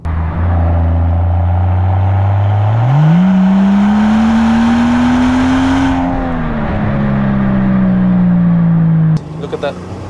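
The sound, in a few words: Mansory Rolls-Royce Wraith engine revving loudly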